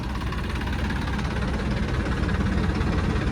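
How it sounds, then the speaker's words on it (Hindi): A tractor running a chaff-cutter machine is revved up, its diesel engine giving a loud, steady, vibrating roar with a knocking rumble throughout, heard up close. "उस आरपीएम पे अब मैं ट्रैक्टर को रेस करता हूँ।"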